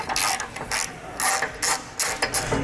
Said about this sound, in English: Next, we'll take a 16mm socket. We're gonna have 2 bolts right up at the front side of our tow hook we need to remove.